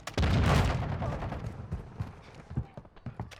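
Gunfire in Call of Duty MW2: a burst of sharp, rapid shots up close at the start, then thinning into scattered, quieter reports and impacts.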